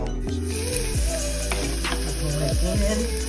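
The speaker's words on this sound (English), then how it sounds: "Got a nice little sizzle on there." Onions and grain-bowl ingredients sizzle steadily in a hot pan, a continuous close frying hiss with occasional scraping and stirring clunks.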